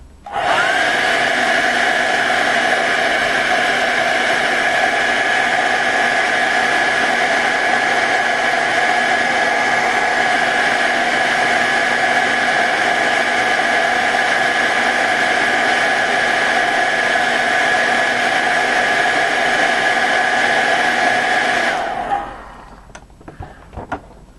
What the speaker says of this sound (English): I'm going to try to hit that with the hair dryer again, just see what that'll do